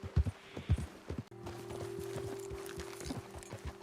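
Horse hooves clip-clop on the ground in Red Dead Redemption 2, a handful of close, distinct hoofbeats in a loose walking rhythm over a low steady hum of game ambience.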